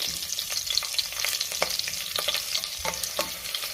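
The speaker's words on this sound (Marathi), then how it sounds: "त्यातच आपल्याला हिरवी मिरची घालायची आहे आणि हे थोडंसं आपण परतून घेऊया" Green chillies fry with bay leaf and whole spices in a pan for masoor pulao. The sizzle is close and crackly, and a spatula stirs and scrapes at a quick, uneven pace with no talk.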